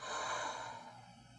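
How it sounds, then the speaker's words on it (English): A single slow, soft exhale through the nose and mouth during a guided breathing exercise, close and breathy, starting fuller and fading gently away. "releasing, breathing out"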